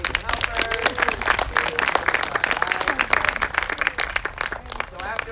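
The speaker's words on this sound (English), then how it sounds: "Big round of applause for my amazing helpers." Congregation applauding helpers at an outdoor Erev Sukkot service, a lively crowd of clapping hands mixed with cheering and chatter, steady and fairly close throughout.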